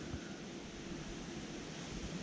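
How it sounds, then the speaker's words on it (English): A steady, soft rush of wind blowing continuously along a riverside, with a faint low rumble underneath and no voices. "I didn't think it was going to be quite so windy as this today."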